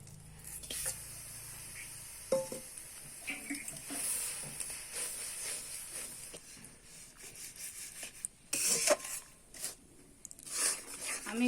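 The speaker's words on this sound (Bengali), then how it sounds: "কড়া গরম হয়ে গেছে, কড়াইতে গুড় দিয়ে দিচ্ছি।" Jaggery sizzling and being stirred in a hot wok while making jaggery peanut candy, with uneven crackles and scraping bursts and a voice talking in the background.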